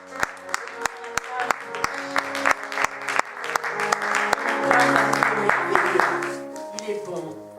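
A church congregation claps and cheers in praise, a dense run of sharp handclaps over a warm sustained organ or keyboard backing, swelling toward the middle and easing off at the end; a voice is heard under the music.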